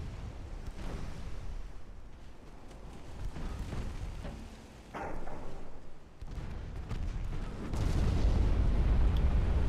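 Explosions and gunfire during a naval battle in the video game Ultimate Admiral Dreadnoughts, a moderately loud rumbling barrage of booms that swells into a heavier roar toward the end, with no talk.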